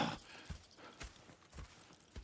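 Horses in Red Dead Redemption 2 clip-clop in a soft, even rhythm, hoofbeats landing about every half second, quiet and somewhat distant.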